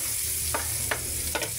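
Garlic sizzles in a pan with a soft, continuous fry, and a few brief scraping stirs cut through it; the sound stays quiet and close with no voices.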